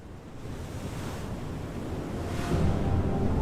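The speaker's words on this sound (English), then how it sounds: "A crashing sea, a washing rock, with sandy shores the ocean pours." Sea waves crashing on rocks along a sandy shore give a steady, broad roar of surf mixed with wind, swelling louder toward the end, with no voices.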